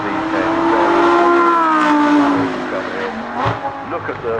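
A Lamborghini Huracan Evo Spyder with a rear-drive V10 climbing a hill, its loud sustained engine howl rising in pitch as it accelerates past nearby, with a shift-like dip partway through.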